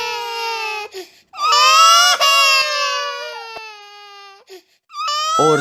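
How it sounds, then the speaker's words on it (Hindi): A cartoon ghost wails and sobs in long, loud, high quavering cries broken by short pauses, alone and close with no speech over it. "तभी शिवा को एक रोने की आवाज सुनाई देती है।"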